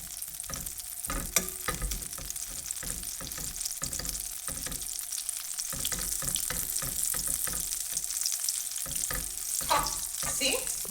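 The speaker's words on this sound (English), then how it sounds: "as soon as it melts, It has to melt" Butter melts and sizzles in a pan, a continuous crackle punctuated by scrapes and clatters of a utensil stirring close by.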